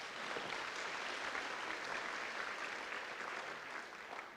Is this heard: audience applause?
yes